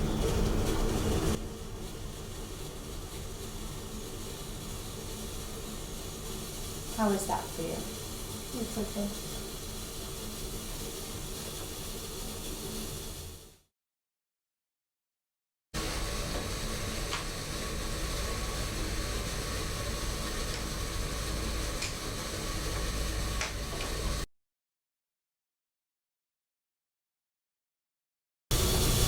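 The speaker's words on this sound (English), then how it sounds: "I will be steaming for a total of 5 minutes" A facial steamer hisses in a steady broadband stream as a warm mist plays over a client's face during a deluxe facial, with a brief exchange of voices and two short gaps of silence.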